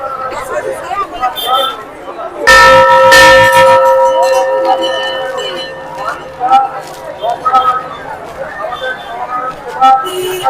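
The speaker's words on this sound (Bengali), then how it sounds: "একটু ঘন্টা বাজছে দিয়ে দে।" A bell rings clearly during a village puja for Baba Panchanan, struck repeatedly with bright sustained tones that rise loud over crowd chatter and voices nearby.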